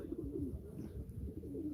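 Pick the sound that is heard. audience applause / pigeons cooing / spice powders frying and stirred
pigeons cooing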